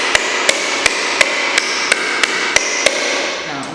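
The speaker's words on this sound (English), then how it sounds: "I'm going to take my hammer." A hammer strikes a fresh coconut held on a solid surface, landing about ten sharp, loud, evenly spaced blows in quick succession, close and alone.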